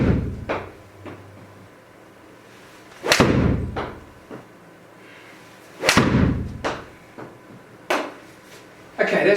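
A golfer strikes balls with a 7 iron on a practice range, three or four sharp, loud impacts spaced a few seconds apart, each followed by a brief fading rush, with quieter stretches between shots.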